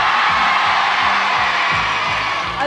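A 1988 French TV studio audience in Sarrebourg cheers and whoops loudly and continuously, a dense crowd roar that fills the space with no break throughout.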